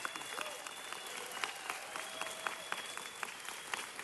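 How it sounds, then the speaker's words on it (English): Applause from the audience at a city council chamber honoring a champion high school baseball team, a faint, steady patter of clapping with occasional louder claps. "I would like to ask everybody in this building to give the Dorsey Dons the applause that they earned on the baseball field."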